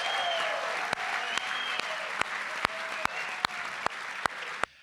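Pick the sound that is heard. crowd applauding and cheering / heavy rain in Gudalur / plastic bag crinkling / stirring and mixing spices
crowd applauding and cheering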